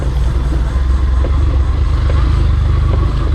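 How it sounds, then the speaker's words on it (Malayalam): A Yamaha FZ V3 BS6 motorcycle rides off-road with a steady, loud, close engine drone, and a loose rear seat knocks and rattles faintly over the rough ground. "ബാക്കിൽ സീറ്റ് അടിക്കുന്നത് സൗണ്ട് കേൾക്കുന്നുണ്ട്."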